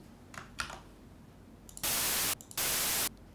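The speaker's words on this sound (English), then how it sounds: "If you want to do full white noise," Two loud bursts of harsh synthesized white noise from a chiptune-style noise generator, each about half a second long with a brief gap between, preceded by a few faint taps.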